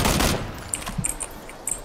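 Gunfire in PUBG: a loud burst of shots up front, then scattered fainter distant pops trailing off, with no talk.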